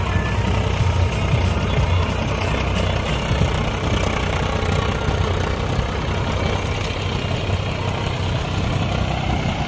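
A Mahindra 265 tractor pulls a fully loaded trolley, its diesel engine droning loud and steady at close range with constant low rumble and vibration throughout.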